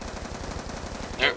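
Rapid automatic gunfire from a sentry gun set up on top of a tower in a Call of Duty multiplayer match, a steady close rattle of shots with a sharper burst near the end, mixed with game noise and faint voices.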